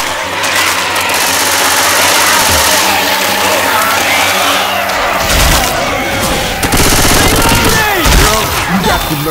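Gunfire in Left 4 Dead 2 during the Dark Carnival highway level, loud and sustained automatic fire mixed with chaotic game noise and some heavier booms.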